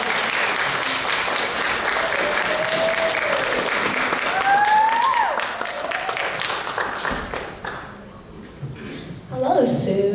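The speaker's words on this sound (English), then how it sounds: "A round of applause for Samantha." Crowd applause fills a pageant hall at a Laos heritage night, steady clapping and cheering running for several seconds before thinning out, with faint voices mixed in.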